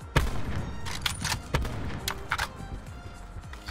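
Gunfire from the online shooter Call of Duty Black Ops 4 in Blackout mode: a few sharp shots that come singly and in short bursts, spread across a few seconds over a steady game background.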